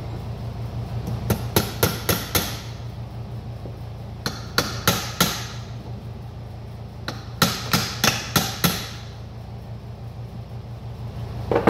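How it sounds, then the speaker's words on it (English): A hammer drives a roll pin through the power seat motor bracket of a 2002–2009 Dodge Ram, with three quick bursts of four or five sharp metallic taps each, close and loud, and no talking. "Drive that pin just a little bit through the bracket"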